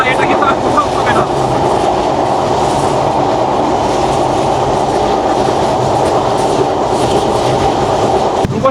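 Steady rumble and rattle from inside the Rupsha Bangla Express, a high-speed passenger train, running continuously and loud throughout, with a dense clattering roar and no pauses.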